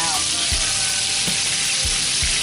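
Mushrooms being stir-fried in a hotpot pot, a steady, loud sizzle throughout with a few soft clunks of stirring at intervals.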